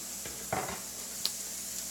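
Shredded cheese is sprinkled onto a hot griddle, setting off a faint, steady hiss. A soft scrape and a light tap of a utensil come through briefly. The sizzle stays quiet and close.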